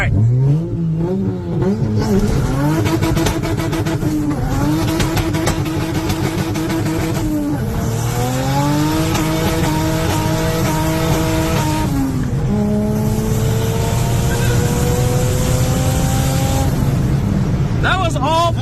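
A Honda Del Sol accelerating hard in 4th gear with spinning tires: a loud engine climbing in pitch through several pulls, the roar and tire noise close, with people talking over it.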